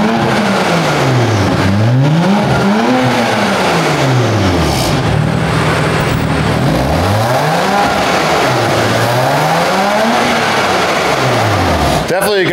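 A BMW with an equal length mid pipe and exhaust valves open revs repeatedly, loud sweeping rises and falls in pitch close by, with someone speaking over parts of it.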